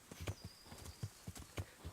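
A horse's hooves clip-clopping at a steady walking rhythm in the medieval game Kingdom Come: Deliverance, close and fairly quiet, with a faint tonal ambience behind.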